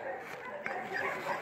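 Dogs bark and yip amid a noisy, busy background at an animal shelter as about 21 dogs arrive, with people talking nearby; the barks are short and mixed together.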